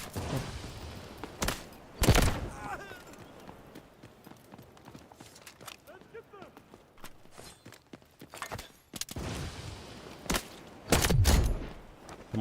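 Gunfire aimed at the player in the shooter game Delta Force Extraction, a few sharp loud bursts separated by quieter stretches of footsteps and movement.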